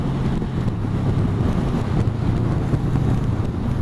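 A Honda Rebel motorcycle rides along at around 45 mph, its low engine drone shifting as it drops down a gear, heavily buffeted by loud, continuous wind noise across the microphone.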